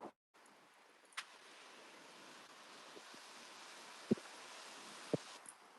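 Wind gusting outdoors, buffeting the microphone in a continuous low rumble with a few sharp thumps and knocks, no talk.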